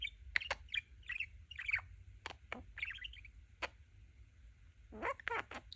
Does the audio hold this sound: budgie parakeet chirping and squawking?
yes